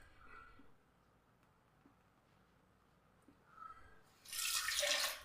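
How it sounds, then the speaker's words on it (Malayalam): Near-silence, then a short, loud burst of a blended small-banana drink pouring and splashing into a bowl right at the end. "ഒരു ബൗളിലേക്ക് നമുക്കത് ഒഴിച്ചു കൊടുക്കാം"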